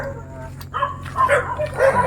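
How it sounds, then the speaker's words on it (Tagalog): Several dogs near a village home bark and yip in short repeated bursts, fairly close and moderately loud over a steady low hum. "Yan tayo, maraming aso."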